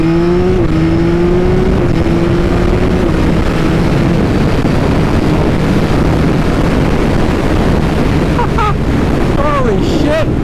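A Yamaha MT-09 motorcycle ridden in ride mode 1 roars loudly and continuously, its engine tone climbing and dropping with gear changes under heavy wind buffeting at the rider's microphone.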